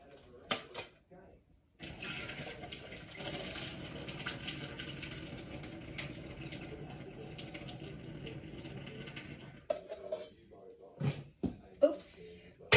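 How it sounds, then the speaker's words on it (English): Water is tipped out of a cooking pot while making low-fat turkey bolognaise, giving a steady, moderately loud pouring rush for several seconds. Brief clatters and handling noises sit on either side of it. "so I'll just tip out the water"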